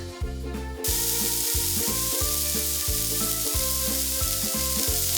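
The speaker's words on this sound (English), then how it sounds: "let's go ahead and fry the hamburger patties" Hamburger patties fry in a pan with a continuous close hiss. A repeating tonal pattern runs underneath and grows louder after the first second.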